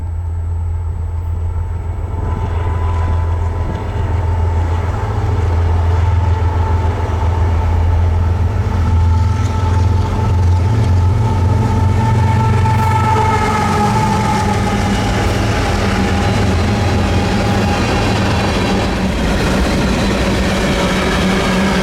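A KCS freight locomotive passes nearby with a loud, continuous low diesel rumble under a steady mechanical roar that holds through the whole pass, without speech.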